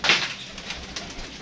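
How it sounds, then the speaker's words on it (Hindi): Pigeons in a loft, with soft low cooing and faint rustling under a steady, noisy background, close and continuous. "ये देखें ये कबूतर हम लेके आए थे"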